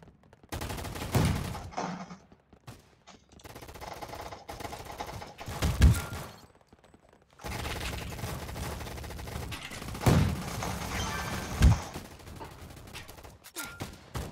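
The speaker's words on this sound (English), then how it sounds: "I just killed myself with my own grenade" Gunfire rattles in rapid volleys in a Roblox shooter game, with heavy booming blasts from a grenade explosion at several points, loud and close, and busy battle noise in between.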